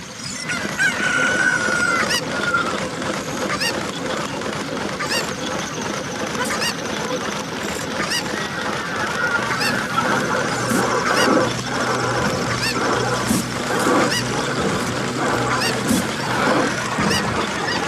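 Chickens in the game Zelda Ocarina of Time cluck and squawk repeatedly, loud and close, with crowing-like calls over a busy, dense game background.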